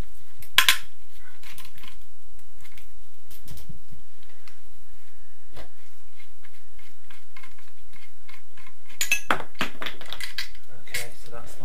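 Metal clinks and taps as a bracket is unbolted from the oil pan of a Honda VFR800 engine during a rebuild, scattered short knocks with a few brighter clatters near the start and end, quiet between.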